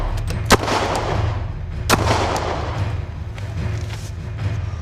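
Gunshots fired almost straight into the side of a BMW in a recreation of a drive-by shooting from a Cadillac: two sharp, loud cracks about a second and a half apart over a steady low rumble.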